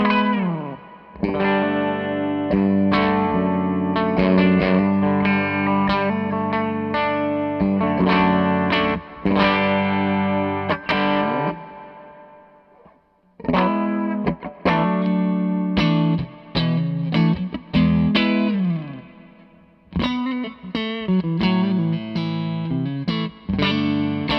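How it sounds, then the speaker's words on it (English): An electric guitar plays through a Zander Circuitry Exosphere reverb pedal set to a spring-style reverb, loud sustained chords and picked phrases ringing with a wet, splashy tail, broken by two short pauses. "that's reverb 1, which is kind of a spring reverb style thing"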